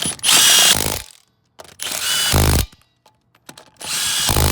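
A power tool buzzes in three loud close bursts with ratcheting whirs while the wheel goes back onto a 2004 Chevy Suburban, short pauses between runs.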